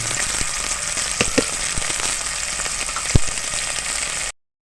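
Two small chopped onions frying in hot oil in a pot give a steady, close sizzle with scattered pops and crackles, then cut off abruptly near the end.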